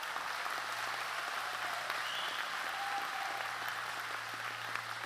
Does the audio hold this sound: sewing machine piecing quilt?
no